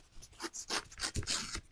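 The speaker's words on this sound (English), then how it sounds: "I'm just going to rip the top off this right here." The top of a sheet of paper ripped off by hand makes a close series of short, rasping tearing bursts lasting under two seconds, with no talking.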